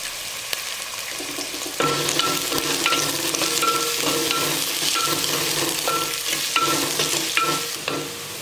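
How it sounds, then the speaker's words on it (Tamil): Onions sautéing with curry leaves and salt in a pan, a continuous close sizzle with scraping stirs and occasional utensil knocks, steady throughout with no voices. "வெங்காயம் நல்லா வதங்கிடுச்சு"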